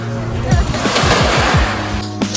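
Black Sea waves wash and surge on a dark-sand beach at Batumi with a steady roar, while a voice speaks briefly over the water.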